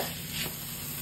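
Grated coconut stirred into melted jaggery over low heat, a soft continuous scraping and gentle sizzle that stays steady and close with no talking.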